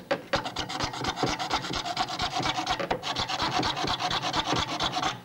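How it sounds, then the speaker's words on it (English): Hand fretsaw jigged up and down cutting around a letter D in a piece of wood, a loud close rapid rasping of repeated strokes with no pauses. "by turning the work around and jigging the saw up and down, I can cut away around the D"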